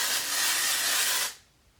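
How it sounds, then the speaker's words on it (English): Texture spray hisses from a can onto hair in a single continuous burst lasting just over a second, then cuts off sharply into near silence. "I'm just going to spray my texture spray all throughout my hair"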